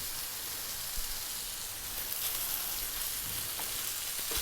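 Onions, garlic and tomatoes frying in a pan and stirred continuously, giving a dense, bright, even sizzle with soft scraping, close and steady throughout.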